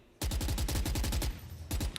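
Rapid automatic gunfire fired through a wall in Valorant during a VCT EMEA esports match, a dense burst of about a second and a half of evenly spaced shots, then a short pause and a few more rounds, loud and close.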